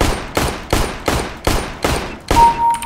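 Desert Eagle pistol shots from CS:GO fire one after another at a steady pace of about three per second, six sharp, loud cracks each trailing a short decay, with no talk.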